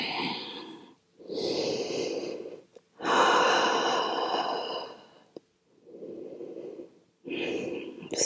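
Slow, deep breathing during a seated yoga forward fold for hamstrings, several long audible inhales and exhales with short pauses between, close and fairly loud in a quiet room.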